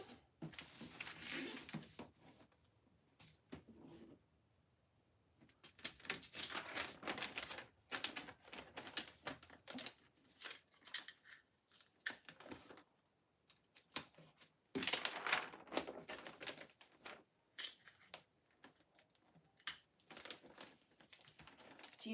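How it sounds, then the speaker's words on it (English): Wrapping paper is folded and creased around a holiday gift package: bursts of crinkling, crackling and sharp paper rustles with short quiet gaps between them, close and fairly soft, with no talk. "Do you guys fold over to make really nice, clean, crisp lines on your packages?"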